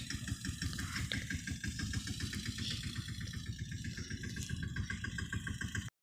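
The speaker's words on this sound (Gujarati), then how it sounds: "આપણું રો ટ્રેક્ટર આવી ગયું આમ" A tractor engine runs in a farm field with a low, even chugging idle, steady and fairly quiet throughout, with no talking, before cutting off abruptly at the end.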